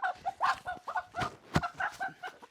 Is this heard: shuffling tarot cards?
no